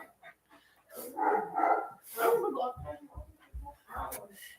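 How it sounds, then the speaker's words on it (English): A dog whines and barks from inside its kennel, short yips and cries breaking up across the clip while a person talks over it in the room. "That dog, the minute you put him in there, he starts crying and barking up a storm."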